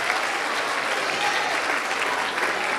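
Sustained audience applause at a school district evening event celebrating children and their parents, a steady wash of many hands clapping at even volume from start to finish.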